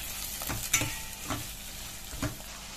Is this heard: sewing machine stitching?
no